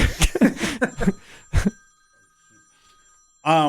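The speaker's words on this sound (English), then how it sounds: "phone ringing" A telephone bell rings with close, loud metallic trills, first mixed with talking and then a lone burst at the end, during a radio station interview.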